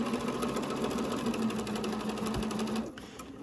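A sewing machine stitches quilt blocks in a steady, close, continuous whir and then stops abruptly near the end, leaving a quieter room.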